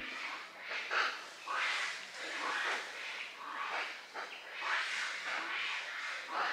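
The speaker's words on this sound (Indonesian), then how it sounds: "Suara monyet berantem." Monkeys fighting in the forest near Wae Rebo village in Flores, a steady stretch of harsh, overlapping squeals, snorts and chattering calls that rise and fall in bursts, close and fairly loud, with no one talking.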